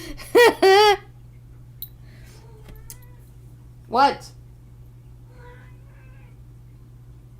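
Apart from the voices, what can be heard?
cat meowing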